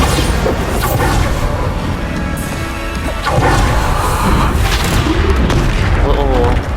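Spell explosions boom and crash in the video game Hogwarts Legacy during combat, loud and close, with whooshes and impacts layered over one another and a voice speaking over the action.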